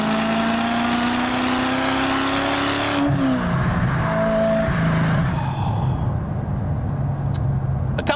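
A 1995 Aston Martin Vantage V550 with a twin-supercharged engine accelerates hard, a loud rising engine note climbing steadily, then dropping and rumbling lower as the car eases off, with a brief whine near the end.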